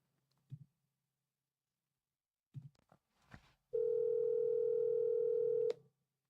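Telephone dial tone during a call to a sales lead: a few soft clicks and taps, then a steady electronic tone held for about two seconds before cutting off sharply.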